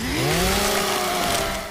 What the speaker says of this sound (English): you have a fucking chainsaw attached to your gun